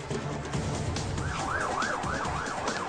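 Police car siren wailing in a fast yelp pattern, rising over traffic and engine rumble, moderately close.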